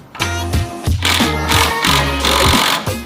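Air impact gun rattling loudly and continuously up close as it hammers out 12mm bolts on a Mazda 3, the rapid clatter pulsing in short surges with no voices.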